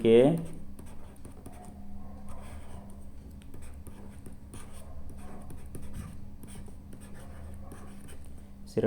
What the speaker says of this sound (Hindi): आपको लिखना होगा तो लिखेंगे यही समांतर श्रेणी